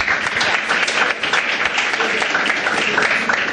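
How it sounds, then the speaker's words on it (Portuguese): Dense, lively applause from a crowd at an award ceremony, many hands clapping continuously at close range. "Uma salva de palmas."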